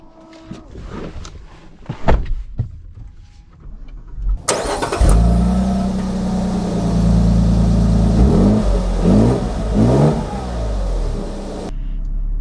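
A 2024 Lexus GX550 starts after some faint cabin clicks and rustling, its engine catching with a loud rise, then settling into a steady hum with a few revving swells as it drives off.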